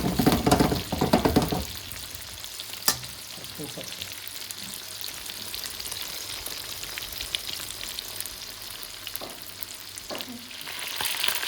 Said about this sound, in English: the chicken's been frying away for about 6 minutes. This is a very high heat